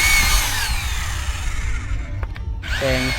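A power drill bores into a wooden pole while a broken bamboo footbridge is repaired outdoors, a continuous loud grinding whine that dips briefly near the end before resuming.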